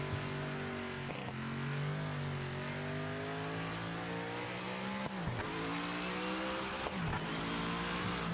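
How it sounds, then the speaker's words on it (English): A race car engine in the video game Project Motor Racing drones steadily with rising and falling revs, sharp dips at each gear shift, loud and close throughout with no talking. "Ooh, that sounds like a car."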